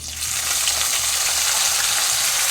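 A steady, loud sizzle comes from ingredients frying in a pan for a pulichikkai pickle, a continuous bright hiss with no voices.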